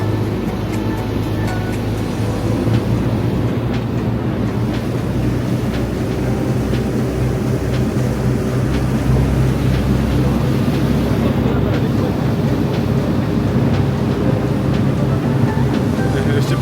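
Boat engines open up on a fast, highly manoeuvrable boat, a steady loud roar mixed with rushing water and wind that runs continuously throughout, heard from on board.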